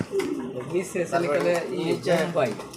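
Pigeons, including Mumbai pigeons with crested heads, coo close by in soft repeated rolling calls, overlapping someone speaking throughout.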